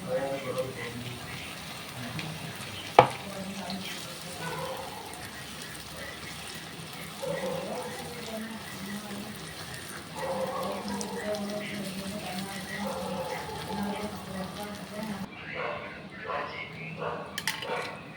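Blended tomato juice is poured into onions frying in a pan, producing a soft, wet liquid rush and a low sizzle, with a voice talking over it.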